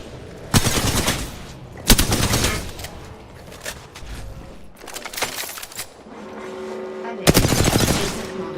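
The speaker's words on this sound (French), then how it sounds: "Je suis sous le feu." Automatic weapon fire in the Apex Legends battle royale video game comes as several sharp, loud bursts spaced a second or more apart, with softer rattling and clatter between them.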